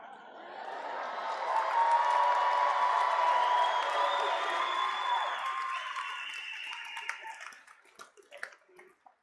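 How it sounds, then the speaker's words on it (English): A large commencement crowd cheers and whoops for graduates, a sustained wash of voices and applause swelling for several seconds before thinning into scattered claps. "Sounds like you want to cheer for our graduates one more time"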